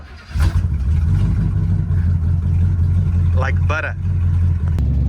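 A Buick Wildcat engine runs after sitting for 21 years, a steady low rumbling idle up close with a couple of brief revs, while someone talks over it.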